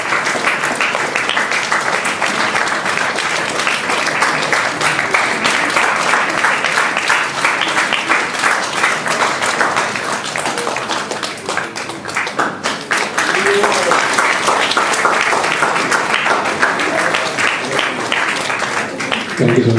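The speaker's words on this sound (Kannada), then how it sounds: "ಫಾದರ್ಗೆ ಒಂದು ದೊಡ್ಡ ಚಪ್ಪಾಳೆ ಹೊಡೆಯೋಣ." A church congregation at a First Holy Communion Mass applauds the priest with loud, dense, sustained clapping that dips briefly near the middle before resuming at full strength.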